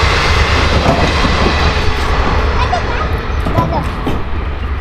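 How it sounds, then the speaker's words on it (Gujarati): A train on the Botad–Ahmedabad line rumbles past close by, a steady heavy low roar with faint rail clatter throughout, and voices murmuring underneath. "અને મિત્રો આમાં ટ્રેન પણ આવી રહી છે. તમે જોઈ શકો છો."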